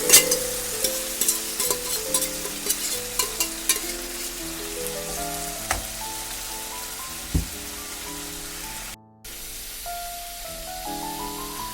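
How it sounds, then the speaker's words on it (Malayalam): Onion, green and red chillies and curry leaves sauté in a pan for a Kerala-style dish, giving a steady sizzle with stirring scrapes, under a layer of melodic background music. "പിന്നെ വഴറ്റിയെടുക്കാം കേട്ടോ."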